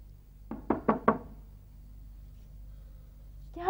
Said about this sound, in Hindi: रंजना बेटी, दरवाजा खोलो।